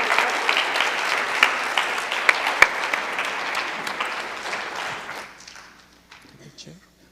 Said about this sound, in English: Rajneesh Gupta, please give him a wild round of applause.